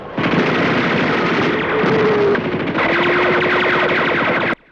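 Sustained gunfire from the 1963 science-fiction TV series The Outer Limits: dense, loud rapid bursts of shots running continuously for several seconds with a steady whine beneath, cutting off abruptly at the end.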